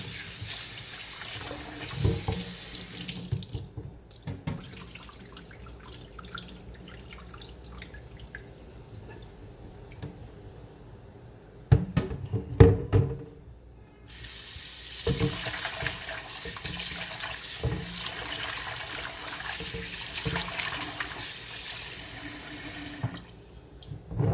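Tap water runs steadily into a sink while raw beef kidney is washed for a Jamaican-style dish, a broadband gush with a brief sharper clatter and a quieter stretch midway before the flow resumes, no voices.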